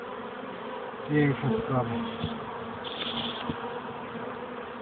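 Honeybees buzz steadily at an open hive during an inspection, a dense close hum that continues under a few brief spoken words.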